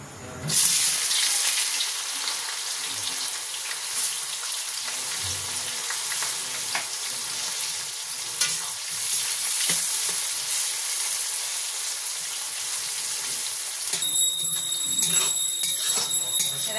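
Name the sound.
onions frying in oil for chicken biryani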